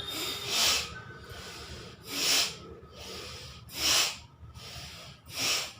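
Four strong, breathy exhales during a breathing exercise, each a forceful rush of air spaced evenly about a second and a half apart, close to the mic with a soft background between them.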